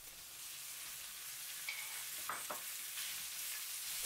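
Ground beef stir-fries in hot oil with a chili-and-garlic paste for a Thai dish. A soft, steady sizzle hisses throughout, with a few brief clicks of the utensil against the pan.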